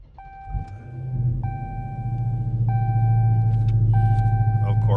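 A 2022 Dodge Challenger SRT Hellcat with about 11,000 miles fires up. A starter whine is followed by a building, deep engine rumble that settles into a loud, steady idle under repeating chime tones.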